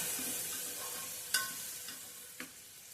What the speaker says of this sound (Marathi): गॅस बारीक ठेवूनच कांदा साधारण गुलाबी रंगावर होईपर्यंत 1 मिनिट परतून घ्यायचा.